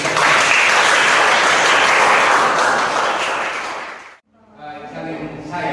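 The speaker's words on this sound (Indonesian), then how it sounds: "Tepuk tangan." A group of students in a prayer-teaching lesson applauds, a loud sustained round of clapping that fades out abruptly, followed by a voice beginning to speak.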